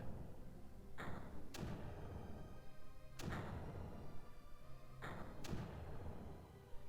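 Mortars fire in the strategy video game Creeper World, four dull thumping blasts at irregular intervals, each followed by a short rumbling tail over a constant low background.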